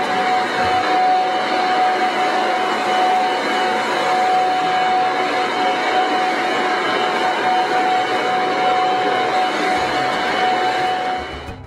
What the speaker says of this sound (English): Blow all the loose chips to the back of the garage into one corner and pick up.